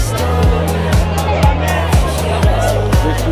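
Crowd hubbub at a busy Hanoi night spot where people eat and drink beer, a steady murmur of many voices close around, with a regular thumping beat underneath.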